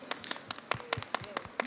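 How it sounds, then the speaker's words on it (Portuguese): A small home church group claps in praise of Jesus, brief scattered hand claps from a few people in a close, roomy space with a faint voice underneath. "Vamos dar uma salva de palmas a Jesus"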